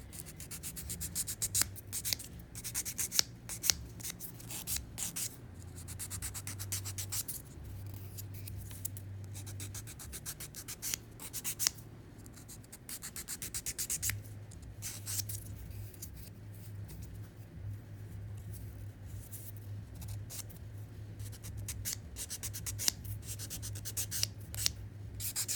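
A 320 grit nail file buffs dip powder nails in quick, close, scratchy back-and-forth strokes, a steady rasping rhythm with short pauses.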